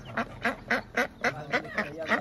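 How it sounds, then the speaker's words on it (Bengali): Native ducks quack in a steady run of about eight calls at a Friday poultry market in Saudi Arabia, close and fairly loud, with faint crowd noise beneath. "এখানে দেশি হাঁস আছে"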